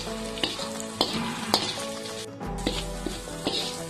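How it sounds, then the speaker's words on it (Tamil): Onion, green chilli and garlic sauté in hot oil with a steady, close sizzle, punctuated by regular spatula scrapes and taps against the pan roughly every half second. "இந்த வெங்காயம் பூண்டு பச்சை மிளகாயோட சேர்த்து இந்த எண்ணெயில வதங்குறதுக்காகவே நான் இந்த ஸ்ட்ரிம் பேஸ்ட்டை சேர்த்துருக்கிறேன்"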